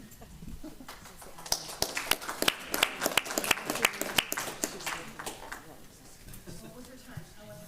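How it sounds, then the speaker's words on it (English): Audience at a school district board meeting doing a coyote clap: a rhythmic run of sharp, fairly close handclaps builds and then tapers off, with voices talking around it. "Can I do one more coyote clap on 3 for the coyotes?"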